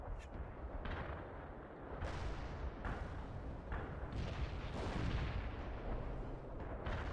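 Sustained heavy artillery fire rumbles through a World in Conflict battle, with repeated deep booms blending into a continuous low roar at moderate distance.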